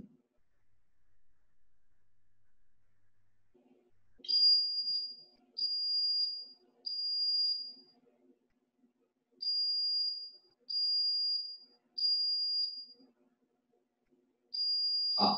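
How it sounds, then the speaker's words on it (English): A fire alarm event signal from an ecoLINE PRO alarm system, a loud high-pitched tone sounding in repeated beeps about a second long with short gaps, over a faint low hum, ending in a brief bump. "Sorry, that was the fire alarm event."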